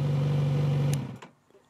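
A new 2020 Kawasaki Z900RS motorcycle engine idles with a steady low hum, then cuts off abruptly near the one-second mark, leaving a faint click and near silence.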